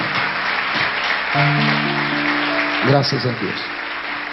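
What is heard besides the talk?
congregation applause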